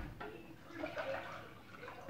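One cup of white vinegar and half a cup of apple cider vinegar pour into a cooking pot for apple chutney. A brief, close splashing trickle of liquid, with no speech.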